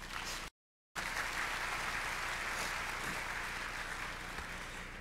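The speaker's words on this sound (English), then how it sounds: "please give yourself a round of applause" Applause from graduates at a 2019 university graduation ceremony, a steady, fairly distant wash of clapping that runs throughout, broken by one brief dropout near the start.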